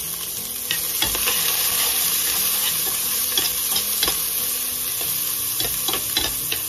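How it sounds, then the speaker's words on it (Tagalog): Garlic and onion sizzle steadily in a hot pan, with repeated stirring scrapes and clicks over the constant frying hiss. "Kailangan natin igisa ang bawang sibuyas."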